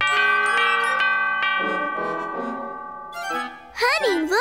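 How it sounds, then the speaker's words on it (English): An elephant bell rings in a children's cartoon, bright metallic chimes struck several times in a loose rhythm, clear and close, fading before a character's high, sing-song voice comes in at the end. "An elephant bell!"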